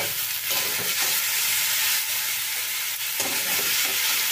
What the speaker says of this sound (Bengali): আর একবারও আমি নাড়াচাড়া করে একটুখানি সাঁতলিয়ে নেব